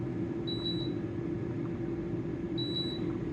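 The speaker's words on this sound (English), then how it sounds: "Halfway through your cook time, you get a button, you get a beep, and a label to say turn food." An Instant Vortex Plus air fryer gives its turn-food beep, two short high-pitched electronic tones about two seconds apart, quiet over a steady fan whir.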